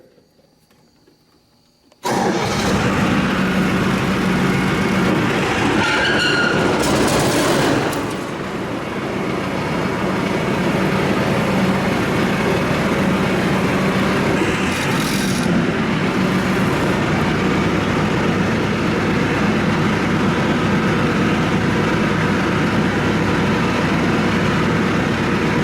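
A tractor powering an 8ft rotary cutter (bush hog) kicks in abruptly after a brief quiet, then holds a loud, continuous mechanical drone around 1200 RPM that dips slightly and recovers.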